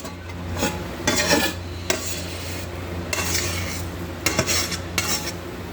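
A utensil scrapes sticky focaccia dough out of a bowl onto an oiled sheet pan in several close rasping strokes with small clinks, over a low steady hum.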